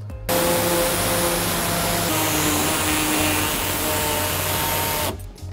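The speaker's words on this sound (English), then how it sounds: "we're gonna take our air saw and we're gonna cut off this entire lip" A pneumatic air saw cuts steadily through a plastic underbody panel lip on a 2018 Toyota Sienna, a loud continuous buzzing rasp lasting about five seconds before stopping abruptly.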